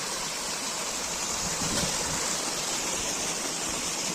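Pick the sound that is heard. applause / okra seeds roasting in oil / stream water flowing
stream water flowing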